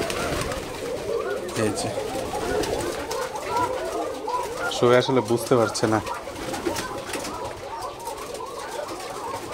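Pigeons in a pigeon house coo steadily, with a louder burst of close, throaty cooing in the middle. Someone talks over the birds throughout.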